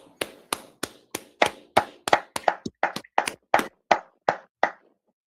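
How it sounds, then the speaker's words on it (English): About eighteen separate hand claps ring out close and sharp in a steady, roughly even rhythm, each with a short echoing decay, in a quiet room with no talking. "All right, clap it up."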